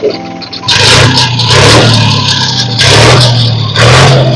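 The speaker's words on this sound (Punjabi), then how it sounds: "ਪਹਿਲਾਂ ਟਰੈਕਟਰ ਦੀ ਸਾਊਂਡ ਚੈੱਕ ਕਰ ਲਓ ਤੇ ਬਾਅਦ ਵਿੱਚ ਤੁਹਾਨੂੰ ਸੁਣਾਉਣਾ ਪੈਂਦਾ ਤੇ ਉਹ ਆਵਾਜ਼ ਨੂੰ ਚੈੱਕ ਕਰ ਲਓ ਟਰੈਕਟਰ ਦੀ ਆਵਾਜ਼" A 2016 Sonalika 750 4x4 tractor with a cabin revs its diesel engine loudly and close by, rising in two long throaty surges separated by a short dip, over a steady low idle rumble.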